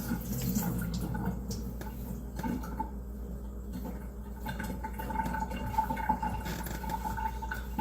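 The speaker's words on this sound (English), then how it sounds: "Give it a quick rinse." Tap water runs steadily while vegetables are rinsed for guinea pigs, a continuous hissing flow that lasts the whole stretch with faint splashes and no talking.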